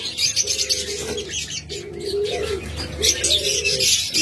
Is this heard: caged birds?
yes